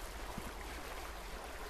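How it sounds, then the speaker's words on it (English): Steady broadband rush of a waterfall in a video game, a continuous even wash of falling water with a faint low rumble and no other sounds. "Oh, it is waterfall."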